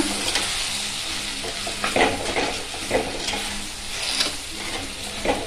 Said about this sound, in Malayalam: നല്ലതുപോലെ ഒന്ന് ഇളക്കി കൊടുക്കുന്നു.